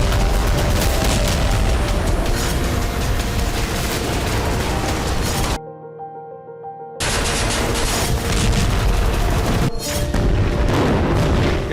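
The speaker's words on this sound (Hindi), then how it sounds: "इजरायली सेना ने खान यूनिस में इसी तरह भीषण बमबारी की।" Heavy Israeli army bombardment in Khan Younis, Gaza: dense, loud, continuous booming and rumbling explosions, broken by one short drop in level before the barrage resumes.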